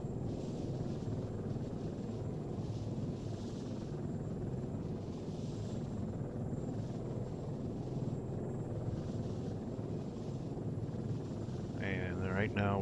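AH-64 Apache attack helicopter flying with no tail rotor in a flight simulator game: a faint, continuous rotor and engine drone, with a brief voice-like sound near the end.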